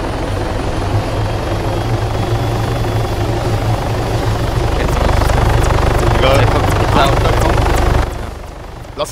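Helicopter rotor and engine drone in the video game Arma 3, a loud steady thrum that swells and then cuts out near the end, with voices talking over it.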